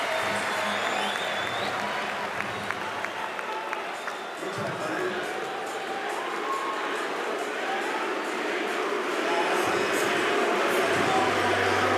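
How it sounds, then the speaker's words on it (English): A large Paris crowd at the SLS 2025 men's street skateboarding final chants a name, a dense and steady roar of voices with scattered cheering that holds loud throughout. "The crowd is chanting Milou"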